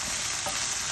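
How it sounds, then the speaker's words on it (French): Vegetables and cherry tomatoes simmer and sizzle steadily in a frying pan, a close, continuous even hiss with no talking. "on va laisser mijoter tout ça tranquillement"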